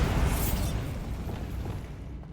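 A Bombarda explosion spell in Hogwarts Legacy bursts with a loud, bright blast, then decays into a long, softer rumbling tail over about two seconds.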